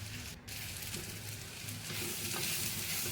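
Ground chili, cumin and coriander sizzle and hiss steadily in hot oil in a pan while being stirred for a Bengali egg and potato curry, a continuous close frying sound.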